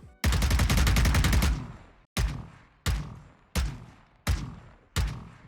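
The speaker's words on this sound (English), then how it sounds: "let's go over the shooting sounds for the Blackspyre Phantom" The Blackspyre Phantom rifle skin in Valorant fires one long rapid automatic burst, then five single punchy shots at steady intervals, each followed by a short ringing tail, close and clear with no talking.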